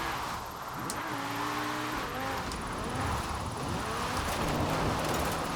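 An Audi RS6 engine drifting in Forza Horizon 4, a steady revving drone with shifting pitch sweeps as the car slides, tire noise mixed in, continuous and fairly loud throughout.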